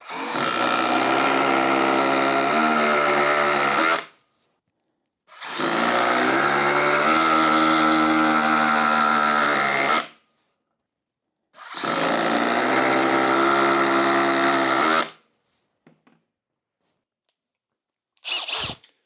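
A DeWALT hydraulic impact driver drives 6-inch lag fasteners in three loud, close bursts of about four seconds each, with silent pauses between them and a brief final blip.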